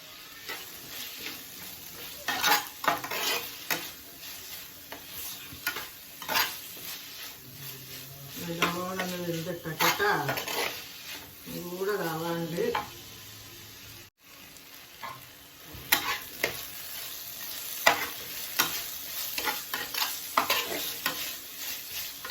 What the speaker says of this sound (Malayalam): അതുപോലെ നമുക്ക് ഇതിലിട്ടിട്ടൊന്ന് വഴറ്റിയെടുക്കാം